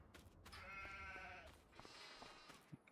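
Jacob ewes bleat in Farming Simulator 25, two drawn-out, wavering sheep calls in quick succession, faint and distant with no talking.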